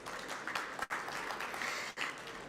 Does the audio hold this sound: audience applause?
yes